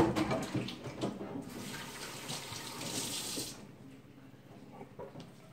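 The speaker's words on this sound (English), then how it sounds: "I'm going to wash my hands off" Water from a kitchen tap runs steadily as hands are washed under it, a close, continuous splashing hiss that cuts off about two-thirds of the way through, leaving a quiet room.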